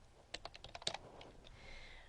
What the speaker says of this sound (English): I'm going to type this in here so you know